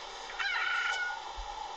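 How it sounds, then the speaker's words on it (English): A rooster crows in the Android video game Wild Fox Sim 3D, one fairly faint, drawn-out cock-a-doodle-doo with a wavering tone, heard alone over quiet background. "male chicken"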